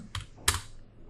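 A few keystrokes on a computer keyboard, two distinct taps about a third of a second apart, close and fairly quiet with no talk.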